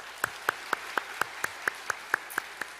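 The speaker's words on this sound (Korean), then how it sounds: "우리 큰 박수로 우리 환영하겠습니다." A church congregation at a Sunday worship service claps to welcome newly registered members, heard as a steady, evenly spaced run of single sharp claps, fairly faint and alone, about eleven beats in under three seconds.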